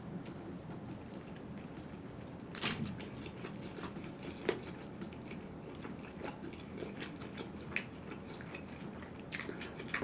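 Someone bites into and chews a Philly cheesesteak with provolone cheese, close and quiet, with soft crunches and smacking mouth sounds in an irregular rhythm and no talking.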